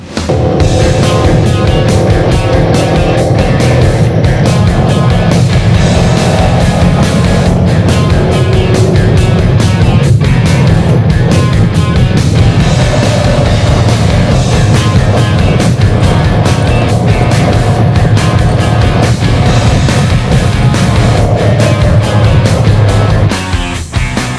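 A Harley-Davidson motorcycle being ridden roars loudly and continuously, its engine note rising and falling over rushing wind noise with no speech throughout.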